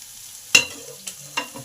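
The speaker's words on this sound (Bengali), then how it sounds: "পেঁপেগুলো হাফ সেদ্ধ হয়ে গেছে ভাজা ভাজা হয়ে গেছে এই সময় আলুগুলোকে দিয়ে দিলাম" Cut, washed potatoes dropped into a pan of half-cooked, frying papaya: one sharp loud clatter, then a soft sizzle and two lighter knocks.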